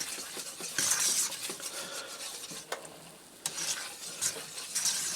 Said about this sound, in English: you want to fry this for a minute to get the flour taste out of your roux